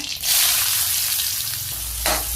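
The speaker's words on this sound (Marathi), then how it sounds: "तेल गरम झालेलं आहे मोहरी टाकून घेऊया थोडंसं जिरं टाकून घेऊया त्यानंतर न कांदा" Onion frying in hot oil with mustard seeds and cumin in a kadhai, a loud bright sizzle that swells up after a brief quiet start and keeps hissing close by with a faint low hum beneath.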